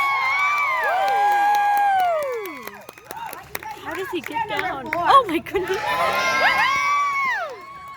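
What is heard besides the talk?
circus audience applauding and cheering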